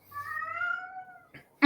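A cat gives one long, clear, drawn-out meow up close, then a faint short sound and an abrupt louder noise at the end, with no talking.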